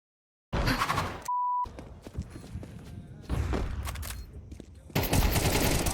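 Gunfire bursts from Counter-Strike 2 gameplay come in clustered rapid volleys with short gaps and a brief steady beep early on. Players talk over the shooting at times.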